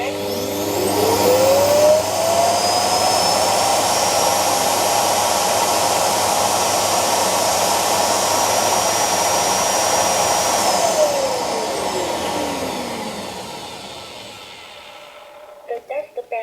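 A HONITURE Q6 WiFi robot vacuum cleaner with a full dust bag heading back to its docking station: a loud, steady motor whine rises in pitch, then winds down and fades, followed by a few small clicks at the end.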